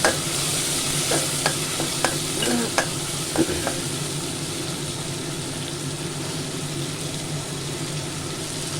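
Prawns with salt and turmeric fry alongside onion and spices, with a spatula clicking and scraping in a quick run of sharp taps early on before a steady loud sizzle carries on alone.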